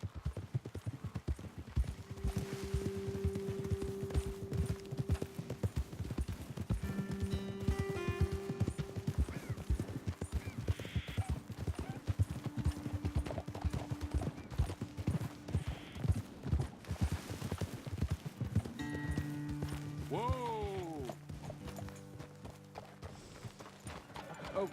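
Horse hooves clip-clop steadily at a trot in Red Dead Redemption 2, with occasional snorts and a whinny near the end, over game music and ambient sound.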